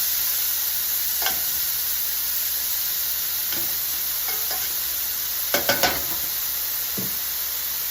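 Leeks sizzle and caramelize over lowered heat in a pan for a spring vegetable tart, a steady soft hiss broken by a few brief stirring scrapes.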